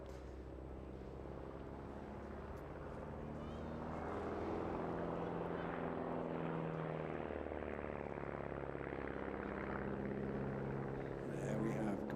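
A propeller display aircraft completes a barrel roll at the Eastbourne International Airshow, its steady droning engine swelling louder as it passes, with crowd or commentary voices blended into the background.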